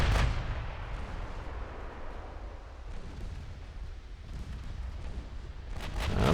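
Secondary naval guns of a warship firing at a destroyer in the Ultimate Admiral Dreadnoughts game, a dense continuous barrage of rumbling gunfire that swells louder at the start and end.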